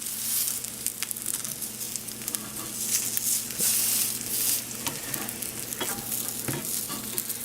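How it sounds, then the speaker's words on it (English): Vegan, gluten-free breakfast patties fry in oil in a pan on medium heat, giving a steady, close sizzle with crackling pops throughout. "They're even frying slightly different."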